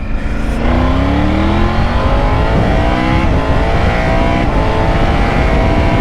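Triumph Tiger GT 900 Aragon Edition 2024 motorcycle pulling away in second gear on a road, its engine note climbing steadily as it accelerates, loud and close throughout.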